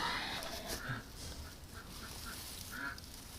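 Ducks kept at a home quack faintly in short separate calls spaced across a few seconds over a low background hum, soft and at a distance.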